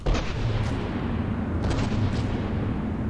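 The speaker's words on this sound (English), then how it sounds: "That was an ammo supply going up." Ammunition cooking off in a tank combat video game: a sustained, loud rumbling barrage of deep booms and crackling blasts filling the whole moment with no pause.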